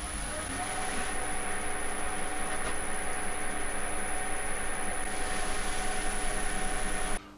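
A wood lathe runs up to a higher speed to polish a turned piece finished with Danish oil, giving a loud, steady whirring drone with a high constant whine that cuts off abruptly at the end.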